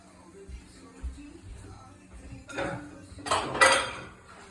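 Garlic pork stirred around a pan, with utensils clinking and scraping against the metal in a few loud bursts, while a voice speaks faintly nearby.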